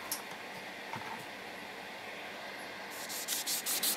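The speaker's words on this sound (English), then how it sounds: "I've gone over this with a sanding sponge" Steady dry rubbing of a 600-grit sanding sponge against a vinyl figure, quiet and continuous, growing into brisker, louder scrubbing strokes toward the end.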